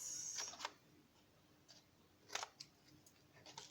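Scissors snip into the folds of a cardboard box, making a few short, quiet cuts spread across the moment with faint room noise between them.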